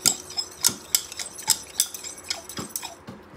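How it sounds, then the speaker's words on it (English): Utensil clinks and scrapes as body butter lotion ingredients, including dissolved water and bearberry, are mixed in a container; sharp taps and knocks come close and loud in an irregular rhythm, with no talking. "i'm going to go ahead to mix this up"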